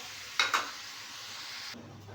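Ground meat and bottle gourd (upo) cooking in a pan, with two quick stirring scrapes near the start over a steady, fairly quiet sizzle that continues throughout.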